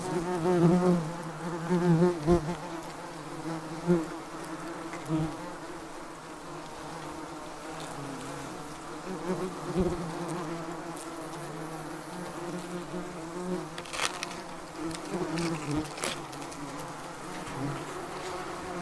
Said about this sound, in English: Now there are twice as many wasps flying around in the air around me